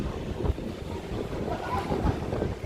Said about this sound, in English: It's a little windy, guys, so I apologize.